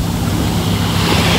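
Sea waves washing up onto a beach crowded with boats, a continuous loud rush of surf and wind noise, close and unbroken, with no voices.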